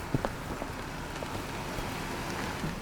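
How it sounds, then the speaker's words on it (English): Steady rain falls outdoors on a street in Queens, a dense even hiss with a few louder drops and faint distant movement behind it. "Go, go, run, it's raining."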